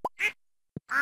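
Cartoonish duck quacks from the Stardew Valley farming game, two short bursts close together, a pause, then another pair, clear and alone with no talking.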